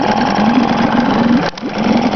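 A Yamaha Mariner 4hp outboard engine, very clean and low-hour, idles steadily and close by with an even mid-pitched drone, briefly dipping once before settling back into its smooth idle.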